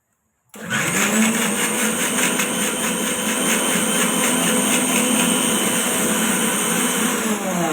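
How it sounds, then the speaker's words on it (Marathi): A mixer grinder whirs loud and close as it blends a masala paste of Kashmiri red chilli powder, garam masala and water for jackfruit bhaji, kicking in abruptly after a moment of silence and then running steadily at high speed. "हे मिक्सरला लावून फिरवून घेऊया."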